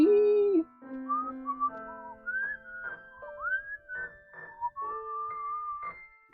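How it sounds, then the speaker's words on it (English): A man whistles a bouncy melody alone, clear and close, with short phrases and brief pauses between notes. "He whistles all the time and disturbs the other prisoners."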